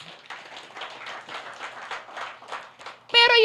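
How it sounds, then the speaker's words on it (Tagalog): A church congregation claps together in a steady patter of many hands, fairly soft and close, before a voice cuts in loudly at the end. "Pumalakpak nga po."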